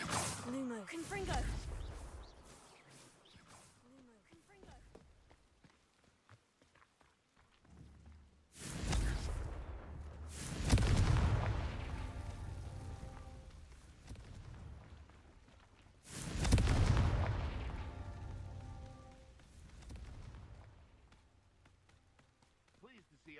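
Confringo fire spells explode in Hogwarts Legacy, outdoors: three loud, whooshing blasts a few seconds apart over quieter background game sound.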